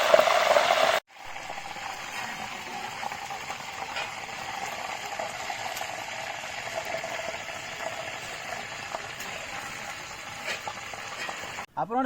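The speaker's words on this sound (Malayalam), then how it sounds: "കുറച്ച് കരിവേപ്പിലും പച്ചമുളകും എണ്ണം കൂടി ജസ്റ്റ് ഒന്ന് വഴറ്റി" Curry leaves and green chillies sautéing in hot oil: a continuous, even sizzling hiss holds for about ten seconds after a brief louder opening and a sudden cut, with faint mechanical clicks of stirring underneath.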